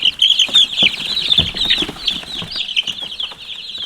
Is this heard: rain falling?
no